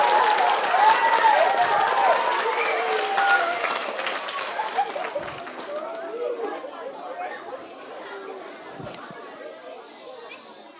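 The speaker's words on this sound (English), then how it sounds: "Give him a clap." An indoor audience at a children's book event claps loudly at first, the applause gradually thinning while lively chatter and children's voices carry on underneath.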